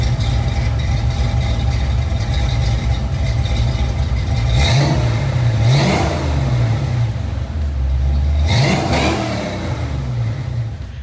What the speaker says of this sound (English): a set of Flowmaster mufflers